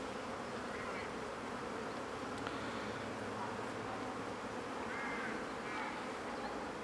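Honeybees buzz in a dense, continuous drone at the entrance of a small nucleus hive as they bring in pollen, steady and moderately close, with no talking.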